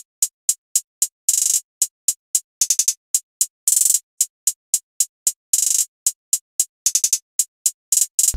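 Crisp, bright programmed hi-hat hits tick in a pattern in FL Studio, broken by quick rapid-fire rolls and buzzing bursts, loud and dry with nothing else underneath.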